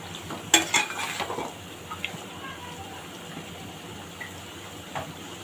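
Tilapia fish curry with potol (pointed gourd), potato and tomato is stirred in an oiled pan, bringing a few clattering scrapes of a spoon against metal early on over a low sizzle, then quieter occasional taps.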